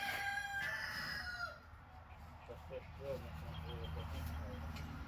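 Chickens cluck and a rooster crows at a farm during morning chores, the calls fairly near over a steady outdoor background hum, with a wing flap or two early on.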